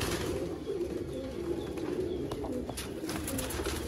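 Sialkoti fancy pigeons, including young birds, coo softly in a quiet loft. The low, murmuring calls roll steadily with no talk over them.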